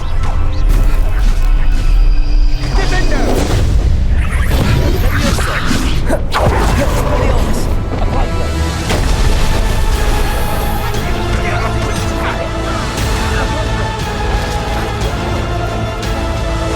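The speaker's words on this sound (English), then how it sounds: "Slam with Descendo." Heavy slamming impacts from the Descendo spell in Hogwarts Legacy, crashing thuds and whooshes over a continuous orchestral score, with a narrator speaking over the action.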